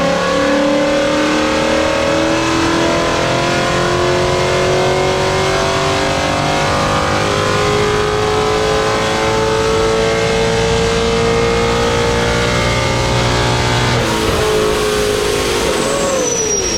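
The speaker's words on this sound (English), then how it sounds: "we're going to run this car on the dyno and see what it makes" A Vortech-supercharged Ford S550 Mustang with a manual gearbox pulls hard on a dyno, loud and close, its engine note climbing steadily through a long sustained run before easing off near the end.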